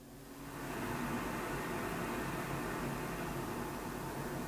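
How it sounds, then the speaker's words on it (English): Forest wind sound effect: a steady, airy white-noise rush that fades in over the first half second and then holds evenly, soft and alone. "I use this one, forest wind is what it's called."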